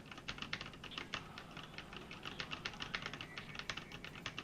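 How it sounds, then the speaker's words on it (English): Rapid keystrokes on a computer keyboard, a dense run of clicky taps at an uneven rhythm, fairly quiet and close, with no voice. "Yeah, I can definitely still hear the keys."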